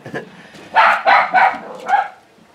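A farm dog barks four times in a steady rhythm, each bark loud and close, with a brief yelp or voice at the start.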